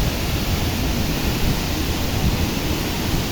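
Ranao Falls waterfall roaring steadily, a dense, unbroken rush of falling water close by with no pauses or speech.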